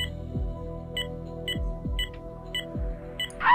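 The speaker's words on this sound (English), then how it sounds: "you can stop beeping" Electronic patient monitor in the Amateur Surgeon video game beeping in a steady repeated pattern, short high tones about every half second, over a low hum and a few soft thumps, with no talk.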